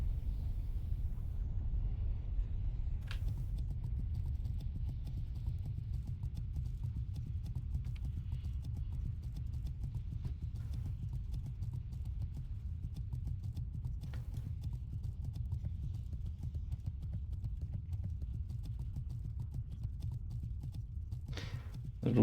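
Horse hooves clip-clop steadily in a fast gallop in a video game, a continuous rapid rhythm of muffled beats with a few sharper clicks and no talking.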